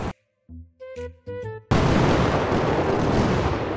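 Fireworks in the video game Firework Mania: a few brief tonal chimes give way to a sudden, sustained wall of dense crackling and booming that stays loud to the end.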